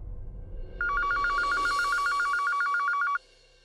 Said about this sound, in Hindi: ऐसा करो आप ना लैंडलाइन पर फोन करो